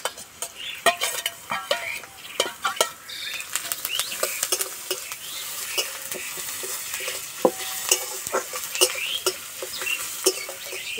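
Grated ginger and garlic added to a pan after browned onions, sizzling and frying with scattered sharp stirring scrapes and clicks throughout, fairly close, with no talking.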